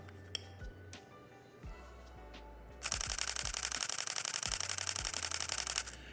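Canon R10 mirrorless camera shutter firing in a rapid burst, a dense run of fast, even clicks lasting about three seconds after a few scattered handling taps and clicks.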